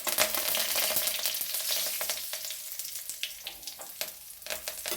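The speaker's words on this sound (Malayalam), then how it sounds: "ഒരു വത്തലമുളക് ഇട്ടത് കൂടെ കരിവേപ്പില ഇട്ട്" Dried red chilli and curry leaves hit hot oil and fry with a bright, crackling sizzle full of sharp spitting pops. The sound is loud at first and eases slightly, with no talking.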